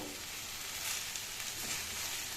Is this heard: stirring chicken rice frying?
yes